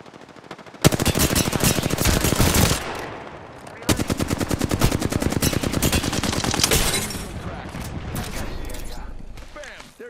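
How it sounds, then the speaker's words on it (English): Rapid automatic gunfire fills a match in the Apex Legends video game, with close, loud sustained bursts that pause once and then resume, running almost the whole time. "I'm taking fire."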